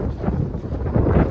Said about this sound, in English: 100-mile-an-hour gust, Mike.